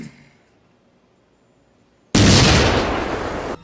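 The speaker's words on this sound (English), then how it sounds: "But luckily, Humperdinck is shielded from the explosion by the explosive proof toys" An explosion in the film Child's Play goes off suddenly after a quiet stretch, a loud, broad, sustained blast that slowly fades.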